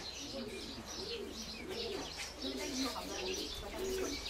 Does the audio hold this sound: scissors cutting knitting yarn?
no